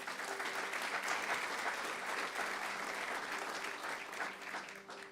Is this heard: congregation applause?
yes